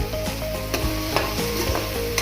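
Turmeric is stirred through a hot cooking pan with a spoon, giving an up-close sizzle under repeated scraping and clinking strokes in an uneven rhythm, with no voices.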